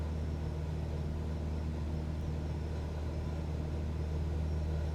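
A Cessna 172 piston engine held at 2300 RPM in Microsoft Flight Simulator drones steadily, a low, even hum with no breaks from start to end.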